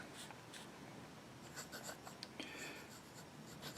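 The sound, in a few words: Delta fountain pen nib writing on paper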